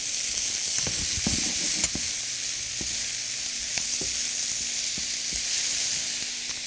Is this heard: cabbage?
yes